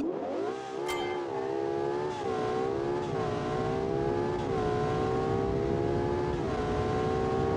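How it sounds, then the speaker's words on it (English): A naturally aspirated V12 car engine making 1000 horsepower, in a video game, howls as it accelerates steadily, pitch climbing through gear changes with brief dips, loud and continuous with no talk. "Naturally aspirated V12 making 1000 horsepower"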